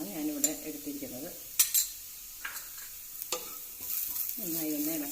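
Chicken masala is stirred in a frying pan with a spoon, soft scraping strokes and light clinks over a faint sizzle, with short sharp taps in between, close and quiet.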